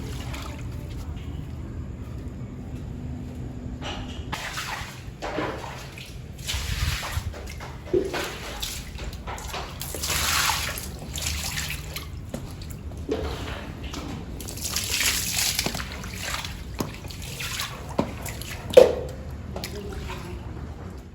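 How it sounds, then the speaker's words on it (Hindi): Water sloshes and splashes in uneven bursts inside a hollow cooler being washed out, with intermittent dripping and a steady background hiss. "साफ करती हूँ, सारा पानी गंदा निकालती हूँ"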